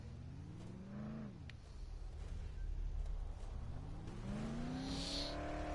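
A car engine in Dead Island hums steadily, its pitch sweeping up and down as it revs and eases off, held at a moderate, close level throughout.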